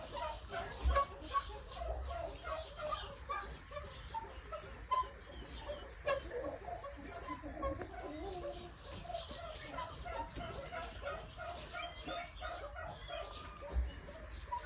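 Caucasian pheasant roosters in a farm enclosure give repeated short, raspy calls and clucks at moderate distance, scattered over steady background noise with other birds and occasional faint voices.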